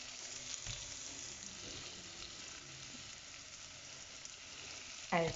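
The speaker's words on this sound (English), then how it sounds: "Then I'll add some garlic." Garlic sizzles and fries in a pan for an omena dish, making a steady, soft crackling hiss throughout with a brief louder clink near the end.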